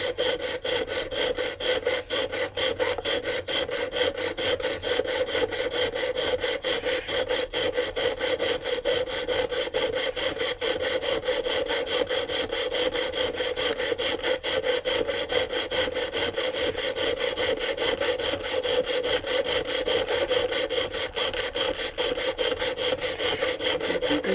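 Recycled copper chainmail wire is worked with everyday budget tools lubricated with oil, giving a continuous close, rapid rasping and sawing rhythm that runs steadily without pause and with no speech.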